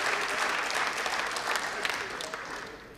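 Seminar audience applauding, a dense steady wash of many hands clapping together that tapers off slightly toward the end, with no talk over it.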